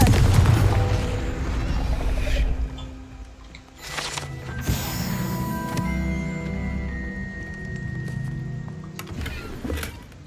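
A Confringo fire spell cast in Hogwarts Legacy bursts with a loud booming blast, followed by a sustained rumbling tail and a few scattered magical crackles and pops over roughly ten seconds.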